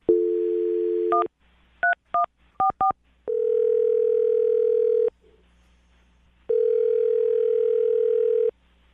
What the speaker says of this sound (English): dial the phone number right now, get her on the phone